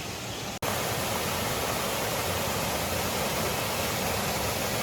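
A small waterfall spills down rocks beside a hiking trail near Taipei and runs into a river. It makes a steady, close rushing hiss that continues unbroken after a brief dropout near the start, with no voices.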